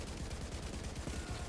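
Rapid rifle gunfire in The Division 2, a steady run of closely spaced shots repeating at an even rhythm, loud and dense throughout with no pauses.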